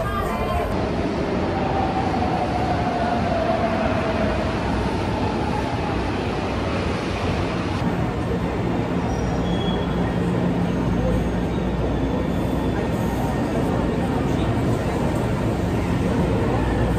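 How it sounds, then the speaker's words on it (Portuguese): São Paulo yellow line metro train, a continuous rumbling roar with a rising whine early on and a shift in tone partway through, close and steady. "indo para pegar o trem, o metrô, na verdade"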